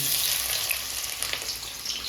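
Onions dropped into hot oil in a frying pan alongside green chillies, after carrots and capsicum were fried, give a steady dense sizzle and crackle that holds at an even, fairly loud level throughout, with no talking.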